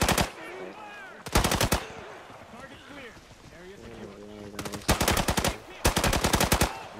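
Loud automatic gunfire bursts in the shooter game Arena Breakout during a 12 versus 12 assault match, several short rapid volleys spread across the clip, with voices talking between shots.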